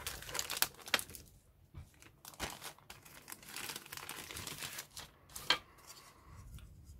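Sealed plastic bags holding parts of a 1/35 Hobbyboss Tiger II tank model kit are cut open: close crinkling and rustling of plastic with sharp snips and tearing, in uneven bursts with short pauses, no talking.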